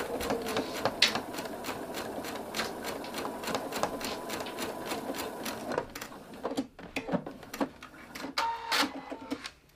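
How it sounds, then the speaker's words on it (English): A sewing machine stitches quilt binding from corner to corner in a fast, steady mechanical run, then slows into irregular short bursts and pauses near the end, close and clear with no talk. "we're going to sew from the corner to the corner"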